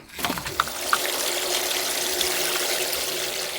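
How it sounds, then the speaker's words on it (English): Dirty water rinsing and flowing in a steady broadband rush, with a few small splashy clicks at the start, close by and continuous with no talking. "Something that we can do while we're down here is to do a little bit of a rinse."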